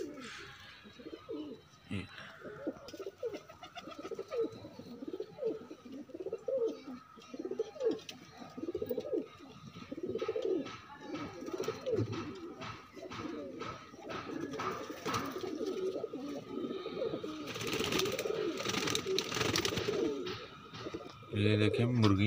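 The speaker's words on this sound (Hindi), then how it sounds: "अब कबूतर आना बाहर स्टार्ट हो जाएंगे।" Soft, repeated pigeon cooing from several birds, low rolling calls overlapping steadily, with some rustling and faint fluttering later on.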